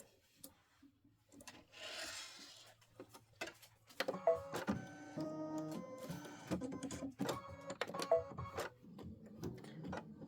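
An Aveneer embroidery machine stitching a Halloween tile design, a steady mechanical whirring and rhythmic clatter of the needle running continuously at low level, without talking.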